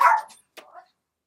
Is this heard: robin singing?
no